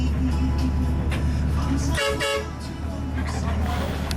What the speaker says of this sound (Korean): 버스가 빵빵대는 이유는 커브길에서 안전하게 운전하기 위함이다.